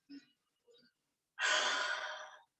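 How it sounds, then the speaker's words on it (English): A long, deep exhale during a yoga forward fold into a head-to-knee bend, breathy and close, following two brief soft breath sounds. "Deep breaths"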